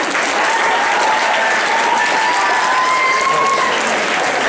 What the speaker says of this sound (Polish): Ale proszę, większe brawa